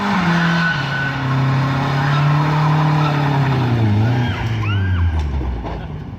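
A car does a burnout at H2oi 2018, its engine droning loudly while the tires squeal continuously with rising and falling pitch, then fading as it pulls away.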